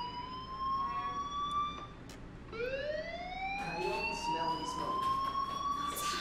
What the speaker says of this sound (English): Hey, do you hear that fire alarm? That means you should be outside.